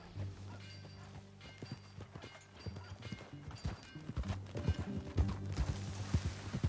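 Horse hooves clip-clop in Red Dead Redemption 2, a walking rhythm of hollow knocks over a low ambient hum, the steps growing louder and quicker toward the end.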